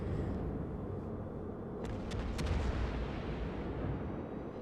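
Battleship secondary guns open fire in a World of Warships naval battle: a few quick, sharp reports in close succession over a constant low roar of battle noise.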